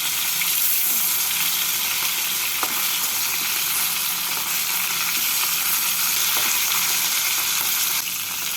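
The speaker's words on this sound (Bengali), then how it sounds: "মাছগুলোকে হালকা করে ভেজে নেব খুব বেশি কড়া করে মাছগুলোকে ভাজবো না" Pieces of snakehead fish fry lightly in hot oil, giving a loud, continuous, even sizzle that holds steady throughout with no voices, only a few faint clicks.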